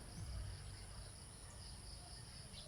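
Crickets chirping in a farm field on a cool, windy morning, a faint continuous high trill over soft breezy rumble, with no voices.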